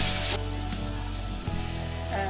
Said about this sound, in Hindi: कुकर की आप लोगों को आवाज़ आ रही होगी, कुकर में मैंने लोबिया रखा हुआ है